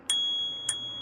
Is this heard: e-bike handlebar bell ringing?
yes